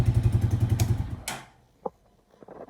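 A Honda CG motorcycle engine idles near 1500 rpm after a carburettor adjustment, a close, rhythmic single-cylinder putter for just over a second before it cuts out, followed by quiet and a lone thump.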